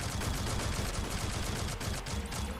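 Rapid automatic plasma gun fire in the Shadowgun Legends PvP shooter, a dense, continuous stream of shots running unbroken for the whole stretch, loud and close with no talking.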